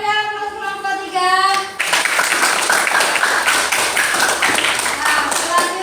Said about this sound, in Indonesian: kita beri aplaus kelompok 3